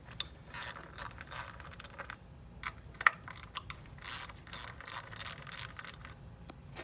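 Rapid ratchet clicking in uneven bursts as 10mm coil pack bolts are loosened on a 2004 Nissan Sentra engine, close and fairly quiet, with small metallic taps mixed in.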